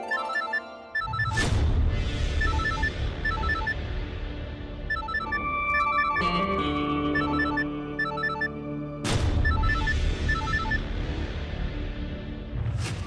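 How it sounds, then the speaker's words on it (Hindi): A phone in an Indian TV drama plays a repeating melodic ringtone, loud and near, first over dramatic background music with sharp stings and then continuing alone. "फोन क्यों नहीं उठा रहा तू?"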